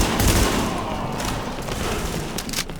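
Heavy sustained gunfire in the video game The Division, loud automatic bursts and booming shots firing almost without pause at close range.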